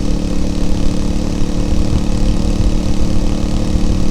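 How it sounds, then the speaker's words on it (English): Voge DS 800 Rally motorcycle fitted with a Scorpion exhaust cruising on the road, a steady, loud, continuous low engine drone with a deep exhaust note and wind rush throughout. "I can hear the exhaust a little bit. It's not too bad. It does sound deeper than it used to."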